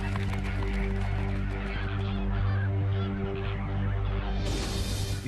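A panicked flamingo flock honks and gabbles continuously in a dense, overlapping chorus, loud and near, with no let-up across the whole stretch.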